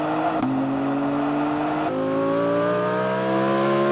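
A BMW M3 and an Audi R8 GT accelerate hard in a drag race, their engines revving loudly with rising pitch through gear changes, close and continuous without talk.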